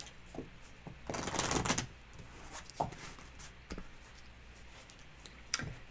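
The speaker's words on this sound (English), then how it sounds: "Sunny is watching me shuffle." Tarot cards being shuffled by hand, crisp riffling bursts and soft taps, one longer riffle in the middle, alone and fairly close.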